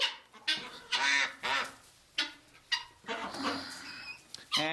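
Guinea fowl on a spring farm give loud, harsh repeated calls in irregular bursts, fairly close, with a person talking briefly among them.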